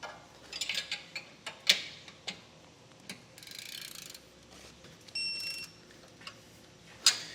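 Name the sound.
torque wrench tightening base plate bolts on a 2016 Chevrolet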